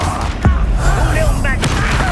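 A Descendo spell lands in the Hogwarts Legacy video game as a booming magical impact near the start, followed by shimmering effects and a second burst, all over game music and voices.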